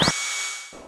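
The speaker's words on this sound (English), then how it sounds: "we start the spindle to drill the hole" A robot-guided spindle drilling a hole in aircraft structure: a short burst, then a whine rising in pitch that settles into a steady, bright high hiss for about a second, with no voices.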